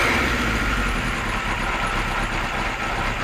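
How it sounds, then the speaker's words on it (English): A Kawasaki Z1 motorcycle engine idles steadily and loudly at close range, about 750 rpm, a continuous low rumble with no voices. "I think that would stay idling now for a while before it stopped"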